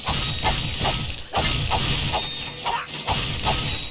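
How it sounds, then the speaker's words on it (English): Crates shatter repeatedly in Ratchet & Clank: Up Your Arsenal, with sharp wooden cracks and crunches in quick succession over a busy background of in-game mechanical clatter. "Pardon me, I'll stop breaking crates for a second so you can hear me."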